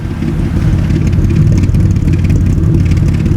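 A swapped Toyota 3.4L engine idles a little low, a loud close steady rumble with a fast uneven throb and no voices.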